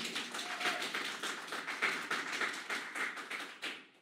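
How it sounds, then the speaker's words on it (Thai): Church congregation clapping together, a quick run of dense overlapping claps heard from the room at moderate distance, fading out near the end with no speech over it. "เพราะเห็นแก่เราปรบมือกับพระเจ้าของเราด้วยกัน"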